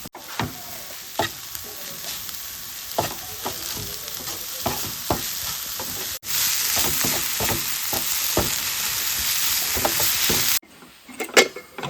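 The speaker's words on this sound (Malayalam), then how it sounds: "ഗരം മസാല മുളക് പൊടി ആവശ്യത്തിന് ഉപ്പോടിട്ട് നല്ല രീതിയിൽ ഇളക്കി കൊടുക്കാൻ" A banana flower cutlet mixture seasoned with garam masala, chilli powder and salt is stirred in a frying pan. A steady, close sizzle runs throughout, cut by repeated spatula scrapes and stirring strokes, briefly pausing near the end.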